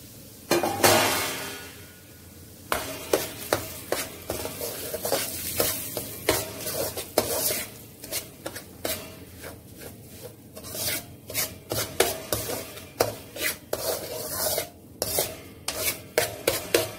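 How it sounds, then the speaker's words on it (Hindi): Semolina stirred and dry-roasted in a pan for sooji barfi, with a close, steady scraping and rubbing of the spoon against the metal in repeated strokes and a light sizzle underneath, no voices. "आप डालेंगे जी सूजी इसमें और भून लेंगे इसे।"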